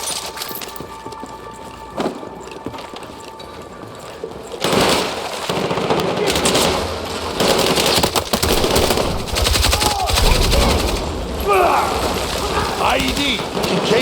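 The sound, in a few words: gunfire in a video game, Battlefield 6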